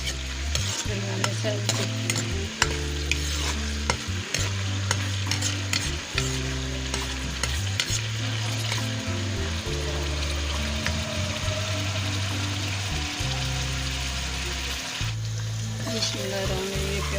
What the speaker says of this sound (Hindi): ये प्याज फ्राई हो गए।